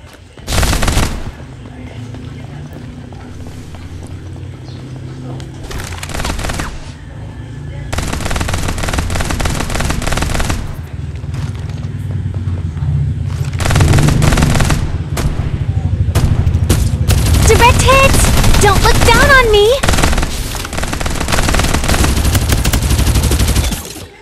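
SMG gunfire in the Farlight 84 mobile shooter game, sustained bursts of rapid shots running through most of the stretch amid dense game noise, with voices talking over the action.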